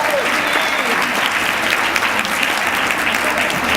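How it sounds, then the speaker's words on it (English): Sustained audience applause fills a luncheon room at an alumni awards event, steady and dense clapping from a large crowd for about four seconds, with faint voices mixed underneath. "we have to give her a round of applause"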